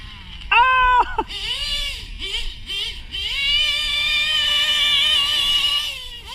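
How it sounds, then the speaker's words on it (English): A small RC car engine, its drive slipping at the back, screams in a high, strained whine that sweeps up and down in pitch before settling into a long sustained howl, loud and close. "this engine is screaming too much because it's slipping in the back"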